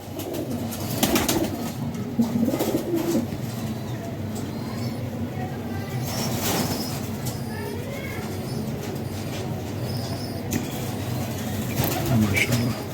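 Pigeons of a champion bloodline coo repeatedly in a loft, soft low throaty calls scattered throughout amid background bustle and faint voices.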